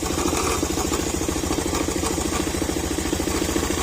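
A Honda Click 125 scooter engine idles steadily up close, its low rapid thumping accompanied by a metallic rattling clatter from the CVT pulley area that persists throughout.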